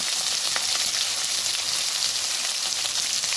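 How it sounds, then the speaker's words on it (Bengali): Cauliflower, potato and spring onion fry in hot oil with salt and turmeric, giving a steady, close, even sizzle that holds without pause from start to finish, with no voices over it. "হালকা ভেজে নেব"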